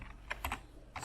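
Keys clatter on a computer keyboard as a command is typed into a terminal for configuring a DeskPi Pro fan, a few quick bursts of close keystrokes separated by short pauses.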